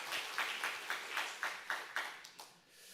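Church congregation at Singal Methodist Church clapping together in a rhythmic, evenly spaced beat of about eight claps before trailing off, moderately faint in a large room.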